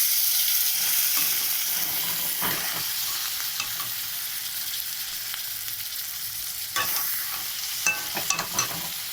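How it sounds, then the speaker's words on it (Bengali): Spices with salt, turmeric and chili sizzle steadily in a hot pan, a loud close hiss broken by occasional scraping stirs and small clatters, with no talking. "ভালো করে কষাবো।"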